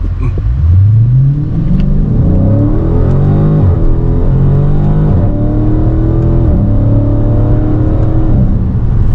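A Dodge Charger Scat Pack with a manual gearbox revs hard and accelerates through several gears, the loud, close engine note climbing in pitch, dropping at each shift and climbing again.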